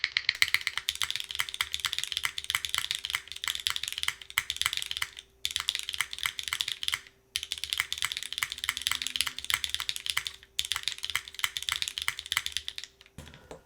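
Fast, steady typing on an Agar mechanical keyboard fitted with MX2A switches, crisp close keystrokes in quick runs broken by a few short pauses, with no voice.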